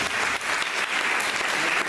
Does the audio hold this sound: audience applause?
yes